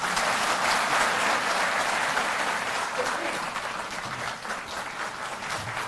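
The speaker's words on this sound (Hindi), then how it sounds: "तालियां बजती रहें।" A crowd at a Delhi government ceremony for handing over service certificates applauds continuously, dense clapping that slowly fades a little, with a voice speaking over it.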